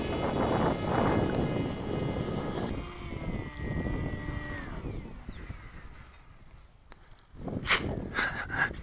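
An RC model plane running ArduPlane on an Omnibus F4 flies just under half throttle into a headwind, its propeller whine droning and gradually fading, with wind noise and a few crow caws near the end.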